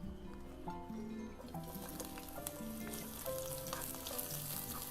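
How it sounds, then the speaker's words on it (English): Food fries in hot oil with a steady close crackling sizzle, dense spitting pops throughout, over a faint musical background. "Listen to the sizzling sound."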